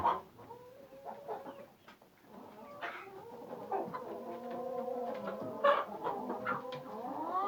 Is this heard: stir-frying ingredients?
no